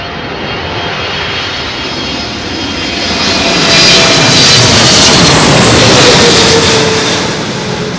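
An airliner on approach passes low overhead toward runway 27L at London Heathrow Airport, a loud, broad engine roar that swells as it nears and peaks about halfway through, then eases slightly as it moves away.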